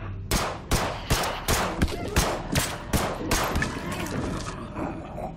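Gunfire in the video game They Are Billions: a rapid series of about a dozen sharp, evenly spaced shots, loud and close, fading slightly toward the end.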